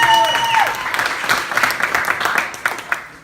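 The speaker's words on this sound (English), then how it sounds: "Give them another round of applause" Applause from a comedy club audience, bursting in loudly at first over a fading tone, then thinning into scattered claps and a few cheers that trail off toward the end.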